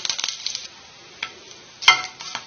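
Bay leaves, shahi jeera, cinnamon and cloves fry in hot oil in a pan for hotel-style mushroom curry, giving a steady soft sizzle broken by crisp crackles and one sharp clink of a utensil, close by, with no voices.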